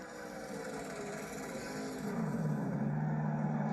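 A NASCAR Xfinity Series race car does a celebratory burnout in the desert after the 2020 Desert Diamond Casino 200, its engine a steady loud roar that deepens and strengthens into a sustained low drone with tire noise.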